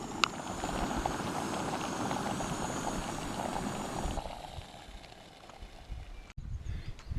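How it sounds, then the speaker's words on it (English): Water at a rolling boil in a Jetboil camping stove, heard as a steady close bubbling and hissing rush that eases slightly near the end, with a few faint knocks. "That's what I love about the Jetboils. Yeah, look, already on a rolling boil."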